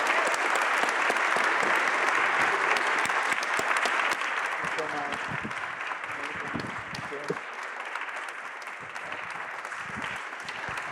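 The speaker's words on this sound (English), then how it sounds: "another big round of applause for Theaster and David" Sustained audience applause fills the room after an onstage conversation at the Serpentine Pavilion 2022, a dense steady clatter of many hands that fades slightly toward the end, with a voice faintly audible beneath it.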